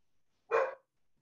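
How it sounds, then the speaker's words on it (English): A single short dog bark outdoors, fairly close and loud, lasting about a quarter second with quiet surroundings before and after. "The dogs are out here barking."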